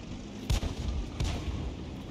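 A self-propelled artillery gun (SU-122A) fires in a tank video game: two heavy booming shots about 0.7 seconds apart, loud and close, over a constant rumbling engine-like background.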